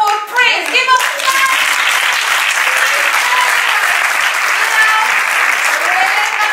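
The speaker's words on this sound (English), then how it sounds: "Give him a clap." An audience gives a round of applause for a performer introduced as the Cowfoot Prince: steady, fairly close clapping from many hands that holds at an even level throughout.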